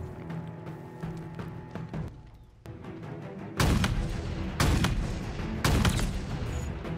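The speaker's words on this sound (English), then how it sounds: "Put out some sniper shots on him." Sniper rifle fire in the Halo Infinite video game: three loud, sharp shots spaced about a second apart, each with a booming tail, over a bed of battle ambience.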